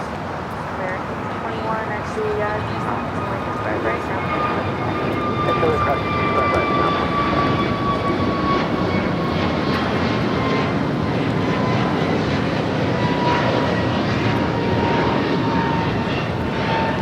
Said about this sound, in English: JetBlue, flight 424 heading to JFK, and the A321 now rocking and rolling down Bravo